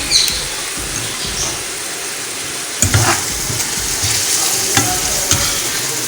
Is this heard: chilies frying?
yes